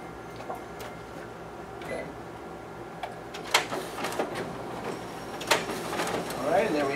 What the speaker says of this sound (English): now we'll go ahead and test out the document feeder on this machine